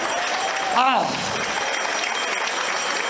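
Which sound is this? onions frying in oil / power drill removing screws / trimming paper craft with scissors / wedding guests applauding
wedding guests applauding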